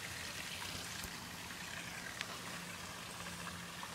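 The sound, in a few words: waterfall flowing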